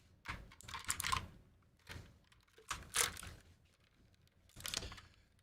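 A clicky computer keyboard is typed in a few separate short bursts of sharp clicks with quiet gaps between them, close but fairly soft, with no talking.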